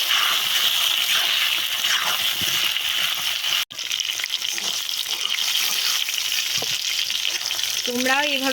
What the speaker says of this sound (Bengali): এরপর আমরা তেল দিয়ে ভালোভাবে পটলগুলোকে ভেজে নেব।